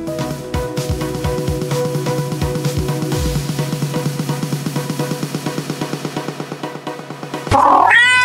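Cat meowing in a children's performance of the turnip folk tale, a sustained run of harmonic tones over a busy musical backing, ending in a loud burst of noise.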